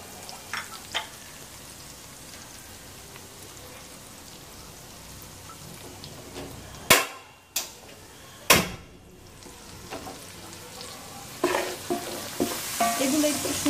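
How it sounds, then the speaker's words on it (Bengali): Prawns sautéing with water lily stems and turmeric in a pan, a steady soft sizzle broken by a few loud utensil clatters midway and busier stirring scrapes toward the end, no voices. "এগুলো একটু সুন্দর করে কষিয়ে নিতে হবে।"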